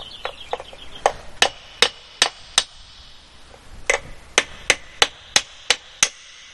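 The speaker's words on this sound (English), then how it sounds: "take a hammer and punch those out" A hammer strikes metal in a series of sharp, ringing blows, punching knockouts out of an electrical box, some spaced apart and others in quick succession, close and loud.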